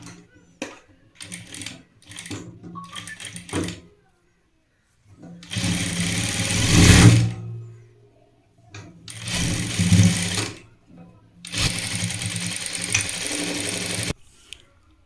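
An electric sewing machine stitches the folded sleeve edge of a burqa, running in three loud, steady bursts of rapid whirring separated by quiet gaps, after some light handling clicks at the start.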